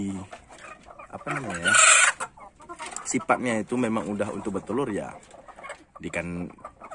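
Native village chickens cluck and call close by in short bursts, with someone speaking over and between them.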